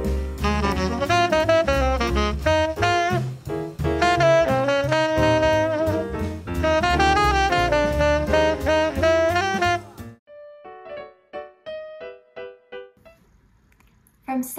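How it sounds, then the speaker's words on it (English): Lively jazz improvisation plays with dense, busy piano-like lines and bass for about ten seconds, then thins out to sparse, quieter notes that fade away. "jazz musicians are still using the same skills from 400 years ago to improvise or make something up on the spot"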